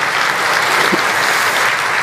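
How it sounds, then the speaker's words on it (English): Audience at the Microsoft Build 2017 keynote applauding, dense continuous clapping from a large crowd, loud and unbroken for the whole moment. "Now, applause."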